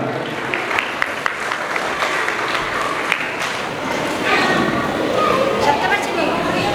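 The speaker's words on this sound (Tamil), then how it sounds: "நன்றியுரை வழங்குவதற்காக உங்களுடைய கரகோஷங்களை வழங்க அந்த மாணவிக்காக." Audience applause at a preschool annual concert, a dense steady clapping that swells louder in the second half, with voices mixed in throughout.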